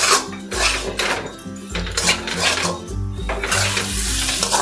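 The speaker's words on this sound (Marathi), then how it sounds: "शेंगदाण्याचा कूट बारीक केलेला मिक्स करून घेऊयात आणि छान पूर्णपणे परतून घेऊयात" Bitter gourd mixed with crushed peanuts is stir-fried in a pan, with steady scraping and clattering of a spoon against metal and a soft sizzle underneath, close and continuous.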